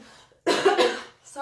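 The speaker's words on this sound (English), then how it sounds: "sorry about this cough" A single harsh, close cough bursts out loud and raspy, followed by a short throat-clearing sound and a brief voiced noise at the end.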